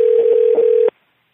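A telephone dial tone sounds loud and close as a call is placed, with a few short dialing blips over the steady tone. It cuts off abruptly, leaving silence.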